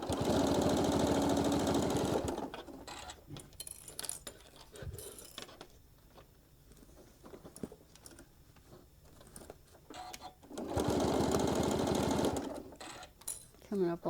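A sewing machine stitches fabric along a gentle curve at a quarter-inch seam, running in two loud, steady bursts close by, with quieter handling sounds and a person talking in the pause between.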